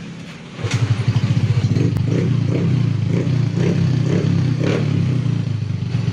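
A motorcycle engine starts up and idles close by with a steady, slightly uneven putter and a faint clatter, running on its own without voices.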